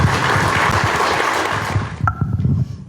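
An audience applauds at a talk about facing life at its end. The clapping is dense and steady, then thins and fades as a voice begins speaking near the end.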